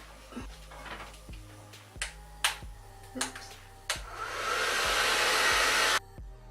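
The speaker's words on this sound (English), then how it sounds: "we're just gonna put diffusing attachment on" A hair dryer fitted with a diffuser attachment switches on after several clicks and clacks as the attachment is fitted, then blows as a loud, steady rushing whoosh for about two seconds before cutting off.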